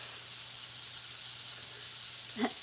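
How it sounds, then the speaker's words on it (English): Chicken frying in oil, a steady, faint, even sizzle crackling throughout, with a brief louder knock or stir near the end. "I'm frying chicken in oil."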